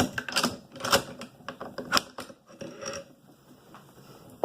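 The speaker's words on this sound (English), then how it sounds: "first you want to pop your dust cover off, take your recoil spring out, take your bolt carrier and bolt out" Metal parts of an AK-47 rifle clack and slide as the dust cover, recoil spring and bolt carrier are pulled out during disassembly, a close run of sharp mechanical clicks and rattles with no talking.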